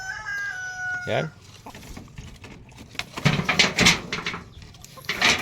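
Chickens cluck and squawk close by in a coop, with a crowing call at the start and bursts of clucking later. A voice briefly speaks over them.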